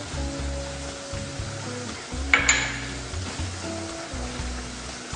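Onion and asparagus frying in butter with a little olive oil in a pan, a steady soft sizzle with a brief clink of a utensil partway through.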